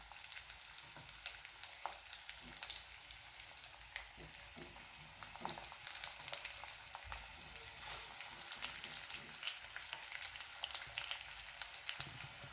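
Sweet potato slices frying in a hot pan for a fasting-day jaggery dish, a steady soft sizzle and crackle with small pops throughout, fairly quiet and without talk.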